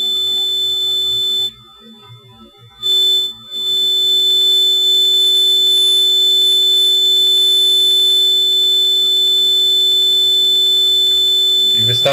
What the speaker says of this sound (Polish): ładnego sinusa, słuchajcie.